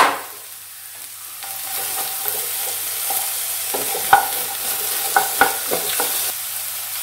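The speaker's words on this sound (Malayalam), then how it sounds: "ആ ഉള്ളി ചെറുതായിട്ടൊന്ന് വഴറ്റിയെടുത്തു കഴിഞ്ഞു, നമ്മുടെ ആ വെണ്ടയ്ക്ക അതിലേക്ക് ഇടുകയാണ്" Thinly sliced okra stir-fries with sautéed onions in a pan, a soft steady sizzle under repeated spoon scrapes and a few sharper clinks against the pan.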